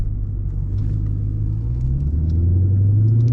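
A Lexus ISF V8 growls while driving, a loud, deep, continuous engine drone heard from inside the car that rises in pitch as it pulls, with no talking.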